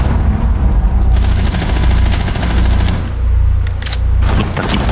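Gunfire in Rainbow Six Siege, a loud, dense, continuous stream of rapid shots that barely lets up across the whole stretch.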